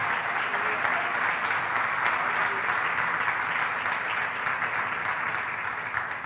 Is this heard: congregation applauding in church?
yes